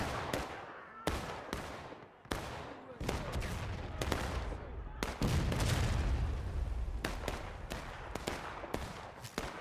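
Massed musket volleys in a War of Rights Civil War video game battle with 250 players, sharp repeated gunshot cracks and rolling ragged fire, loud and continuous with overlapping echoes.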